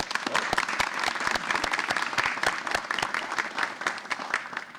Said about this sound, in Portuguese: Uma salva de palmas pro Vaz aí.